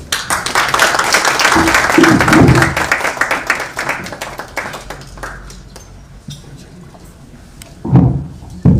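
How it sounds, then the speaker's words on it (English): Audience applause for speaker Ndindi at a plenary gathering on Kenya's debt: a dense crowd of clapping that swells early, then thins and fades to scattered claps, with a brief burst near the end. "let's give a good round of applause to Ndindi"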